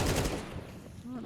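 SMG fire in Counter-Strike on the Mirage map during a tournament match, heard as a short rapid burst of gunfire at the start that quickly fades under game noise.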